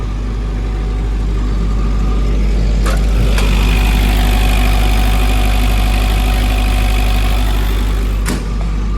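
A Denyo 30 diesel generator runs under a load test: a loud, steady, close engine drone with a deep low rumble and a few brief clicks, with no voices.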